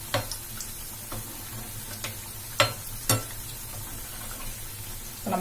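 Sweet bonda batter frying in hot oil, a soft continuous sizzle broken by a few sharp crackles and pops, close by with no talking.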